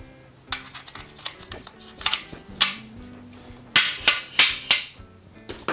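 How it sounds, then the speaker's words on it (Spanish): A rubber mallet taps aluminium trim around a glass panel into place during a kitchen build, with a series of sharp knocks in irregular clusters that grow louder and firmer toward the end, close up with no talking. "hay que meterla con un martillo de goma para no hacer daño al aluminio"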